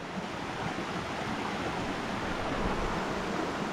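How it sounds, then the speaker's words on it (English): Small clear-water streams flowing in the bush near a camping hut, a steady rushing wash of water that stays constant and close with no talk over it. "little stream, two little streams"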